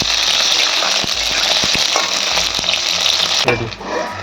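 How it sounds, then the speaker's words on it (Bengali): Eggplant pieces sizzle loudly in hot oil over a high gas flame, a dense close-up hiss with a few stirring knocks, briefly settling near the end. "সব বেগুনগুলো একই সাথে ভেজে নেব।"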